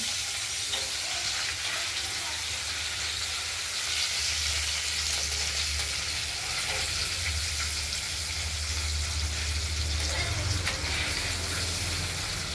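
Paneer pieces sizzle in hot oil in a pan after being turned over, a steady broadband frying hiss throughout with a low rumble underneath and a few faint clinks.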